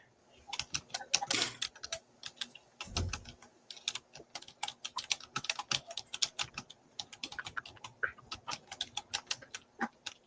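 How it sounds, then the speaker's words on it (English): Rapid, uneven keyboard typing with clicky keystrokes in bursts, fairly close, with a couple of heavier thumps near the start. "That's not my typing, guys."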